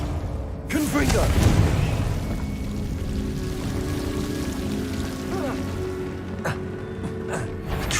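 The Confringo blasting spell goes off in Hogwarts Legacy with a loud booming blast early on, then rumbling debris and scattered crackles settle over a continuous game ambience of hum and tones.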